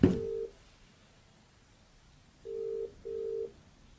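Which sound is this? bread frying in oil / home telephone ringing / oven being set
home telephone ringing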